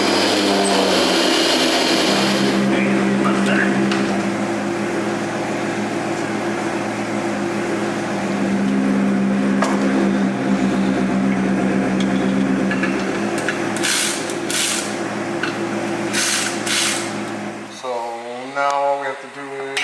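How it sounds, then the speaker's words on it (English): Power drill enlarging bolt holes in a clutch pressure plate during a Bentley repair, a steady loud whirring drone that runs nearly continuously for about eighteen seconds before cutting off, with a brief metallic clatter at the end. "I'm just going to take a drill and open them up just a little bit, just so that I can get these screws in"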